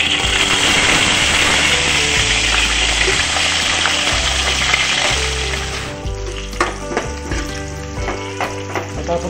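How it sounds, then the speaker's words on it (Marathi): Onions sautéing in a pan after cumin seeds, a loud, dense sizzle that holds strong, then thins around midway as stirring scrapes and clinks break through. "आता आपण कांदा लाल होईपर्यंत परतून घेऊ"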